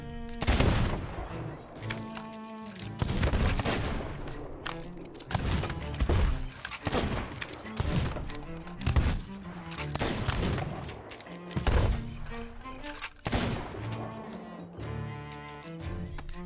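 Assorted weapons in the Sea of Thieves pirate game fire in quick succession with reload clatter between shots, loud, dense bursts and single blasts repeating throughout.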